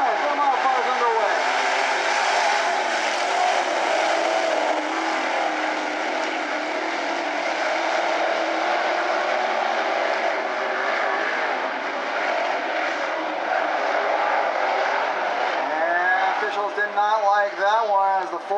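Modified race cars roar steadily and loudly throughout a heat race at Grays Harbor Raceway, a continuous pack of motors droning on the track, with a few sharper revving passes near the end.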